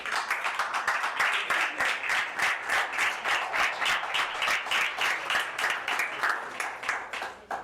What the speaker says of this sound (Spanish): Y le brindamos un aplauso al Señor.